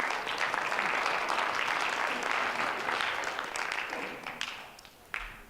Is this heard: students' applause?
yes